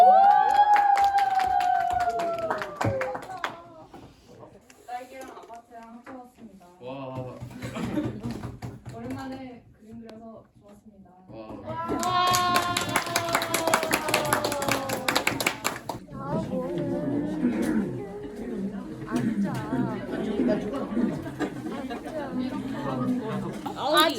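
Classmates in a school art room burst into clapping and cheering for a presenter, a busy mass of hand claps and excited voices rising midway, with loud talking and shouts throughout.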